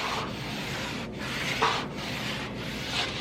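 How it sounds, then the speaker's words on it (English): A regular washcloth pushed along a sliding patio door track with a knife makes a soft, close scrubbing rub, continuous with a few short breaks between strokes. "All I have is a regular washcloth and actually a knife. And I'm just gonna lay these in and take my knife to kind of scrub."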